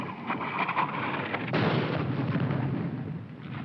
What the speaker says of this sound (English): Where's that Jap artillery?